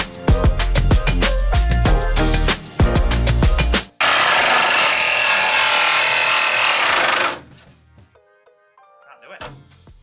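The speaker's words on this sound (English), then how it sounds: "the end of the jigsaw is catching against the bulkhead" A jigsaw cuts a window opening in the metal side panel of a VW Crafter van conversion, its blade harshly rasping for several seconds, with rhythmic knocks and clatter at the start and quieter handling noises after the cut stops.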